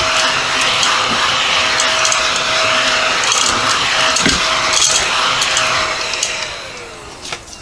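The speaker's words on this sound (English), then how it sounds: "when I can't get up with my hand, I'm going to bring out my trusty little vacuum" A small handheld vacuum cleaner whines steadily and close up while sucking up paper scraps from card-making, with faint crackles and ticks of debris before the motor winds down at the end.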